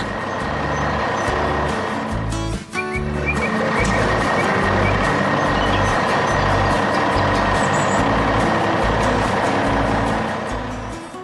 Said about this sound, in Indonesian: Kini truk hijau itu melaju dengan pasti melalui jalanan kota